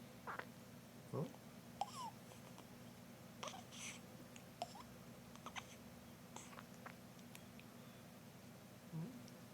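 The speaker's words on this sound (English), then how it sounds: "You got the hiccups, man." A man's hiccups come as a few short, soft, sharp yelps spread over several seconds, faint under a steady low background hum.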